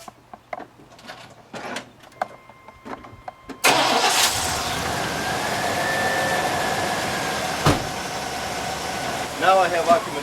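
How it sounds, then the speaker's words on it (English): A pickup truck engine cranks and catches at about four seconds, then settles into a steady idle with a hum over it. Faint handling noises come before the start and a brief clatter follows near the end, with no talking. "start the truck."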